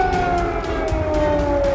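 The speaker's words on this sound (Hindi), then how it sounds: "कीव में इमरजेंसी सायरन की आवाज।" An emergency siren wails steadily over Kyiv, a sustained tone drifting slowly downward in pitch, heard alone against faint background rumble.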